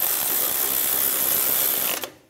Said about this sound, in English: Take the bolts, get them started. And tighten these down.